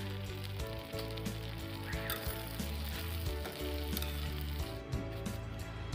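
Food fries in a pan before rice goes into a pressure cooker, giving a steady, close crackling sizzle throughout with no talking.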